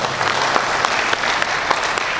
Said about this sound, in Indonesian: Oleh sebab itu tepuk tangan untuk kami.